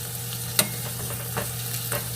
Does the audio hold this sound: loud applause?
no